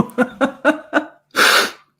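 A few quick, sharp inhaled breaths build up, then a single loud sneeze bursts out close by.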